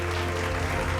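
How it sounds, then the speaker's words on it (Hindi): Dense, continuous clapping from a large audience at a Bhojpuri award ceremony, steady and loud throughout with no pauses. "एक बार फिर से जोरदार तालियों के साथ सम्मानित कीजिए आप"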